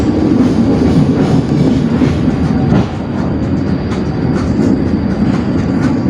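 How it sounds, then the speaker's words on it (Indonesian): A commuter train pulls into Wonokromo station, heard from inside the carriage as a loud, steady rumble of wheels and rails with light rhythmic clatter and faint high squeal throughout. "Kita masuk stasiun Wonokromo"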